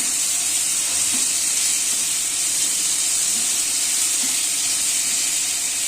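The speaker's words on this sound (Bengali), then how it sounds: "লবণ দিয়ে নাড়াচাড়া করি।" Pointed gourd (potol) cooking with salt in a pan for aloo potol: a loud, even, continuous hiss of sizzling oil with faint, soft stirring movements underneath and no voices.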